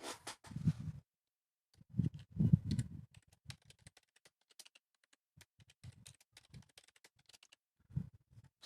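Quiet typing on a computer keyboard, scattered clusters of soft key taps and clicks with pauses between bursts in a still room.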